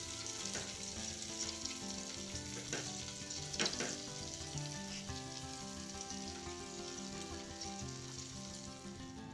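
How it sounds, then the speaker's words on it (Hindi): Stuffed tinda (round gourd) sizzles steadily in a pan as the pieces are turned, with a soft crackling fry and occasional scraping stirs close by, quiet and without talk. "टिंडे पक रहे हैं"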